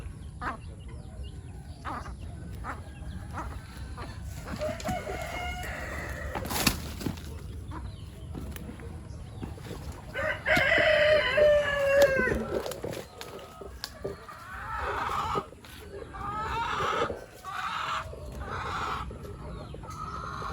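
Roosters and chickens on a farm, with clucks and crowing calls rising in bursts over steady outdoor background noise, plus a brief flutter of wings, all fairly close and without talk.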